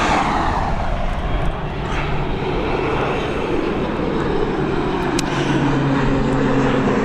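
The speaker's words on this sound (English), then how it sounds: "This ATR should be ready to go any second now. Oh, she's gone. She's up and away." An ATR turboprop airliner takes off from Dublin Airport, a strong sustained engine drone with steady propeller tones gradually shifting lower as it climbs away, almost no talk.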